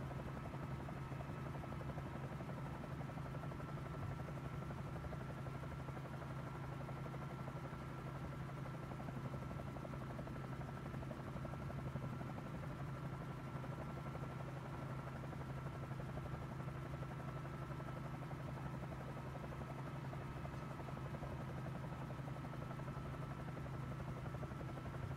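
Bell 47J helicopter hovering in Microsoft Flight Simulator, giving a steady, continuous rotor and engine drone with a strong low hum that holds unchanged and close throughout, with no talk.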